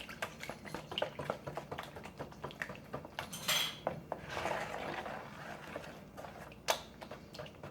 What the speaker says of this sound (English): You're going to start giving it a whisk.